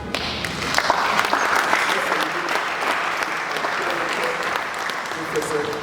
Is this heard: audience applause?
yes